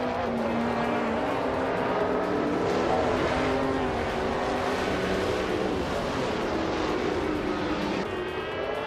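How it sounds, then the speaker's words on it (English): The engine of a 1981 Nissan Bluebird Silhouette race car in a racing game roars loudly and steadily, its pitch wavering as it shifts and holds speed among other cars in a pack. "Amy is driving a Nissan Bluebird Silhouette from 1981."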